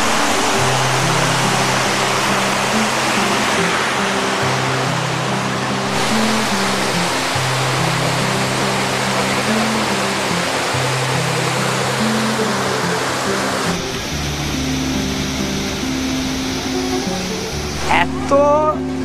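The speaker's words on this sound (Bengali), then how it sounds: "এত জোরে ঝর্ণা পড়ছে যে মনে হচ্ছে কিন্তু আশপাশটা পুরো বৃষ্টি পড়ছে" Changey waterfall in Kalimpong roaring loud and steady at close range, a dense continuous rush of falling water with a low tonal hum running beneath it.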